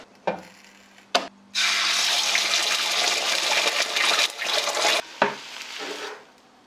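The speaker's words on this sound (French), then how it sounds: "Je vais juste faire cuire l'omelette, c'est la dernière étape de la salade" An omelette fries in a pan with a loud, steady broadband sizzle lasting a few seconds, set between short clattering bursts at the start and near the end.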